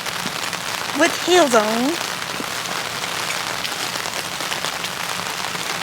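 Steady rain falls outdoors on a night walk, a constant close hiss of drops on surfaces throughout, with a short burst of talking and laughter near the start.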